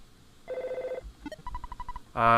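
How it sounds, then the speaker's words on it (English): An Earthbound telephone rings in chiptune style, a buzzing tone burst followed by a quick series of short beeping pulses, then a bright jingle, alone without voices. "And now we're getting a phone call."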